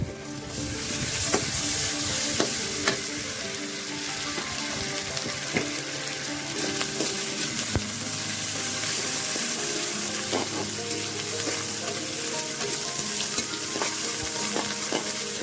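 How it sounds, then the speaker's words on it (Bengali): Sliced onions and a little ginger-garlic paste fry in oil for a mahashol fish curry, giving a loud, continuous close sizzle dotted with sharp crackles and utensil clicks, steady throughout with no talking. "এই যে এখন পেঁয়াজ দিয়ে দিচ্ছি"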